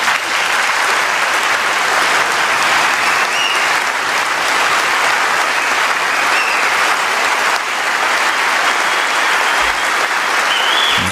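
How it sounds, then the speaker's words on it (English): A large audience claps continuously at an honoring ceremony, a loud, even roar of applause sustained for the whole stretch with only faint whistles above it. "it was some of them clapping"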